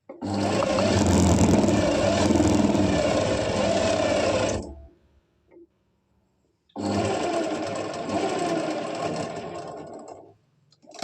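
An electric sewing machine runs in two long steady bursts while stitching palazzo fabric, its motor whirring close and loud, then stopping for a brief gap before starting again.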